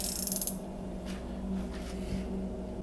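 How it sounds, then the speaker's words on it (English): A fishing reel's drag is tightened before spooling line, giving a brief burst of clicking ratchet at the start, followed by soft mechanical creaks and faint turning noises. "We want to tighten our drag up pretty good"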